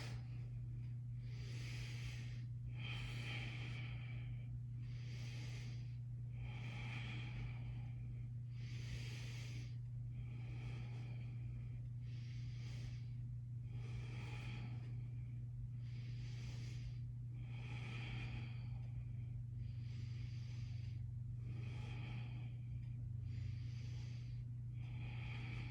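Slow, steady breathing held in a yoga forward fold, soft inhales and exhales repeating at an even pace over a low constant hum, faint and close, with no talking.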